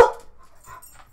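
A pet dog at home gives a single sharp bark at the start, followed by faint whimpers and small yips in a quiet room.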